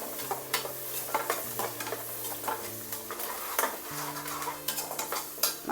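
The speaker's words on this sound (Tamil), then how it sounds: "வெங்காயம் தக்காளி நல்லா வதங்கிருச்சு இப்போ நான் வந்து கருவேப்பில் வந்து சேர்த்துக்கிறேன்" Onions, tomatoes and curry leaves sauté in a pan for a homemade country chicken dish, with a steady sizzle under repeated scraping and clinking of a spoon against the pan, plus a low sustained tone running beneath.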